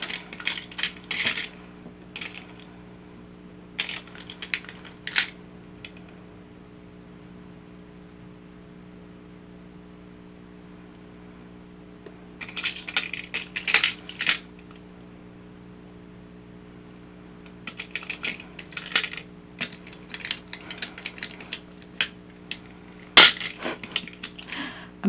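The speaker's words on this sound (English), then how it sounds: "I'm sorry about the banging of the beads." Bursts of small hard objects clattering and knocking together, in several clusters separated by quieter gaps, over a steady low hum.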